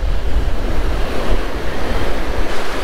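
Ocean surf breaking steadily on a beach during fishing from shore, a continuous loud wash of waves with gusting wind noise across the microphone and no voices.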